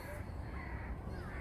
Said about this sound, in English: There's a few birds in the trees